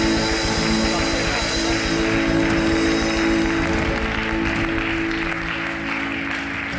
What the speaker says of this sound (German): Gebt doch ihr einen riesen Applaus